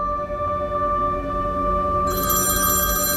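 A phone left at home rings with an incoming call, a bright electronic ringtone of sustained tones that swells with added high shimmer partway through, with no voices over it.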